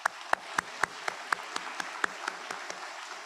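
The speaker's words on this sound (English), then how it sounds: "Could we just take a second to give them a round of applause" Sparse clapping at an LPN graduation ceremony, a few hands beating in a quick, fairly even rhythm for about three seconds, moderately close and without talk.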